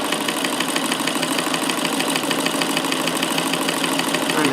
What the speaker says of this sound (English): for this machine, you can hear how smooth and quiet it is now since I've adjusted the bobbin mechanism